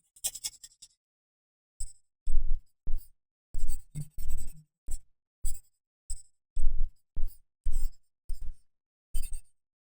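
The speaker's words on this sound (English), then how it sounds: "So all I'm going to do is just scribble." A pencil scribbles on paper while a comic book style head is being drawn, with a dozen or so short, close scratchy strokes in an uneven rhythm separated by brief pauses.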